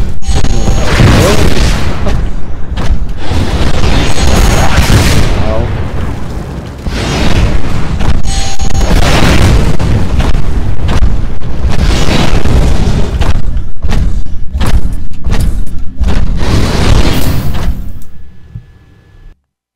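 Rockets explode in a Titanfall training mission hallway in a run of loud, heavy booms, close and nearly back to back, with one short lull midway before a final fade to quiet.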